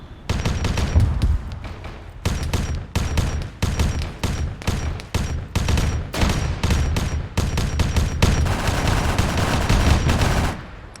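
Rapid weapon fire in a Warhammer 40k game, loud dense bursts of repeated shots with brief gaps between volleys, sustained for several seconds.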